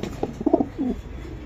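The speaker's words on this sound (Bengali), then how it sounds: "দর্শক, এই যে দেখেন আপনারা কবুতরগুলো আমি একটু দেখাই দিই" Racer pigeons give a single short, close coo, soft and throaty, over faint background hiss.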